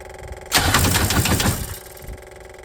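An MEP-803A generator engine cranks in a short, rough burst of about a second, then stops, leaving a low background hum.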